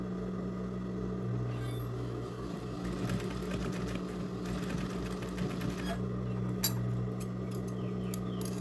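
A sewing machine stitches a fabric whale-shaped pouch closed, its needle running in a steady rapid clatter with brief stops and restarts, close up and moderately quiet, with no talking.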